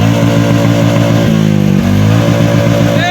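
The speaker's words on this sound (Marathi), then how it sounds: "बुलेटचा आवाज" A loud, close Royal Enfield Bullet motorcycle engine thumps at a steady low idle, then briefly revs up and settles back down.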